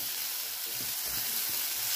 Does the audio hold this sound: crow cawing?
no